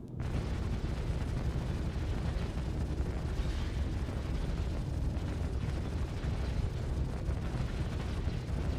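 Heavy ship guns firing in Star Citizen, a dense, continuous loud barrage of rumbling booms and mechanical clatter filling the whole stretch with no pauses.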